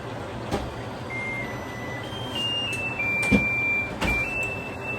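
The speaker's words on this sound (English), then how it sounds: "timer's going off" A kitchen timer beeps while tater tots cook, thin electronic tones sounding in short bursts over faint background hum, with no talking.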